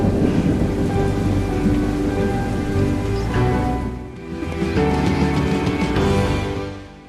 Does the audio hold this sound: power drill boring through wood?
no